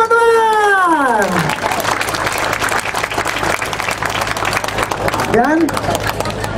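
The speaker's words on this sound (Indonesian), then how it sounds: "Tepuk tangan pada teman-teman." Audience applause at a Surabaya charity tree-planting run event swells into a loud sustained burst of clapping and crowd noise, with a cheering voice rising at the start and again near the end.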